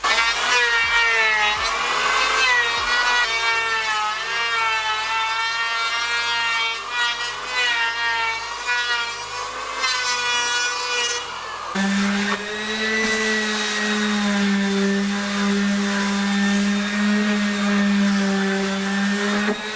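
A loud, sustained whine of a power saw cutting boards for a boat transom template on a Pacemaker 20ft boat, with a cyclone dust extractor roaring steadily underneath; the pitch shifts midway as the cut changes.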